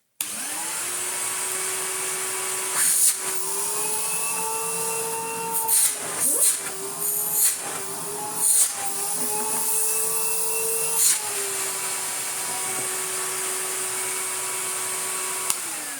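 A Numatic NVH370-2 commercial vacuum cleaner runs steadily with a strong whining motor drone and airy hiss, with a few brief bumps and knocks partway through.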